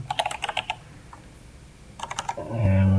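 Quick bursts of computer keyboard typing, two short clusters of crisp keystroke clicks separated by a pause, with a voice starting to speak at the end.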